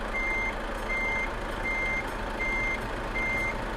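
A truck in Euro Truck Simulator 2 reverses slowly, its backup alarm sounding five evenly spaced beeps over a loud, steady engine rumble.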